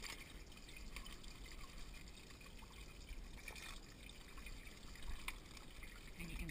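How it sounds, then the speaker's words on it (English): Water trickles and splashes faintly through a strainer as mason bee cocoons are rinsed to wash off mites, mud and pollen, a quiet continuous stream with occasional soft clinks. "you're just going to keep rinsing these cocoons"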